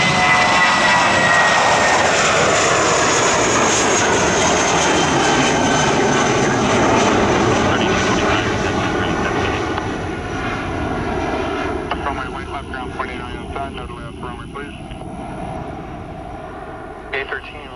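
An airliner departing Orlando International Airport: a loud, sustained jet roar that slowly fades as it climbs away, with faint radio voices underneath.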